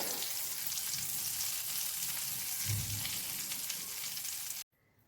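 Ghee and butter warming with spices in a pan give a steady, close sizzle that runs without pause, then cut off abruptly near the end, leaving near silence.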